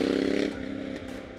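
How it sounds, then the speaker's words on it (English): A Triumph Speed Twin's British parallel-twin engine idles and burbles through upswept black sport silencers, a steady throaty low pulsing exhaust note heard close and fairly loud, easing slightly partway through. "you've also got that wonderfully throaty British twin sound from those new upswept black"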